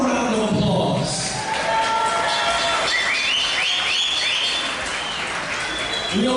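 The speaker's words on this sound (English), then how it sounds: "go ahead and give yourselves a round of applause." Crowd at an MMA event applauding and cheering, a continuous wash of clapping with some whistles and a voice talking over it.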